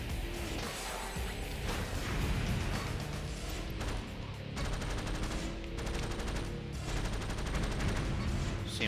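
A minigun in the combat racing game Jak X: Combat Racing fires in fast, rattling bursts, fairly faint and mixed with engine and effect noise, loudest in the second half.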